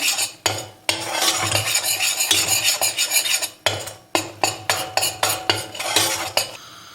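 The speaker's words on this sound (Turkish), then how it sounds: "şimdi şöyle bir yemek kaşığı unun içerisine ilave ediyorum. Güzelce kavuruyorum." Flour scraped and stirred into melted butter in a pan for Turkish ezogelin soup: a spoon rasps and clinks against the metal in quick repeated strokes, closer and rhythmic toward the end, under a faint sizzle.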